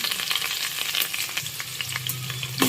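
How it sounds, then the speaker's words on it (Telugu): Green chilies and onions frying in a pan give a dense, close sizzle, broken by scraping and stirring clicks of a utensil, with no talk. "కొంచెం బాగా ఫ్రై అవ్వాలండి"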